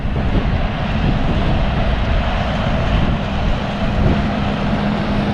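A small 1.5-metre-wide tractor runs in a field, its engine giving a loud, steady, unbroken rumble with broad noise throughout.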